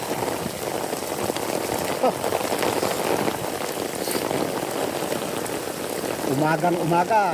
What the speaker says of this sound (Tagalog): Pero grabe namang ulan to.